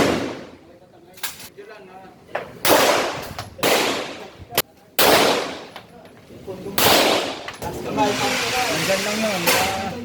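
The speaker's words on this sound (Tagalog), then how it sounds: "Ako na ang susunod na magpaputok mga kaibigan." Commander firecrackers set off outdoors in Cubao, Quezon City, a series of loud sharp bursts with hissing sizzles between them, ending in a denser crackling stretch.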